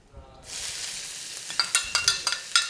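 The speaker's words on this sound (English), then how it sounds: "So now, back on a high heat, and my aromatics can go in." Onion, ginger and lime leaf hit hot oil over high heat for a Thai-style stir fry, bursting into a loud, steady sizzle, followed by a series of sharp rhythmic scrapes and taps against the pan.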